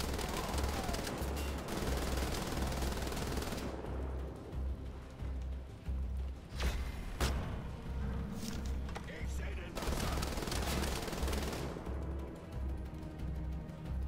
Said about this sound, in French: J'adore cette arme, la Gatling.